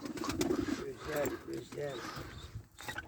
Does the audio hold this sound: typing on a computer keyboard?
no